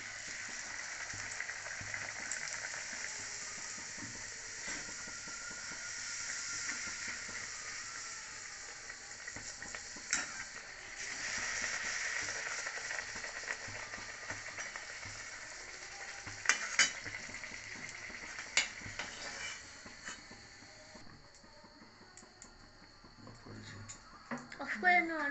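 Luchi, puffed flatbread, fries in hot oil with a soft steady sizzle and occasional stirring clatter, fairly faint, while a voice talks over parts of it.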